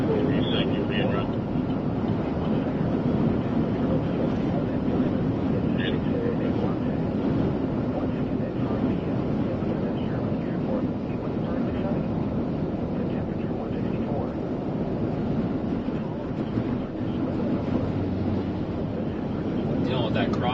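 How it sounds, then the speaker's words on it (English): Crosswind buffets a storm chaser's microphone during severe weather, a loud low rumbling roar that continues without a break, with voices talking underneath. "Dealing with that crosswind again, though, now."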